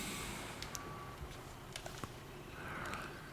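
A truck backing up in the SnowRunner video game sounds faint reversing beeps, a few thin tones over a low, muffled engine rumble, with no talk.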